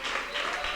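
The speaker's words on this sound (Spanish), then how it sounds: "Esas palmas bonitas a Cristo, esas palmas alegres al Señor" Congregation applauding for Christ during a church service, a short burst of dense, continuous clapping that sounds moderately loud and somewhat diffuse in the room.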